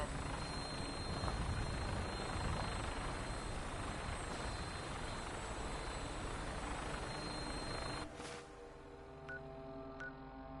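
The Prydwen airship's engines in the video game Fallout 4 give a dense, steady droning roar that drops away sharply after about eight seconds, leaving faint electronic tones.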